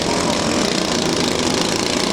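A lawn mower engine runs at a destruction derby's mower event, a loud, close, raspy drone with a rapid knocking pulse held steady throughout.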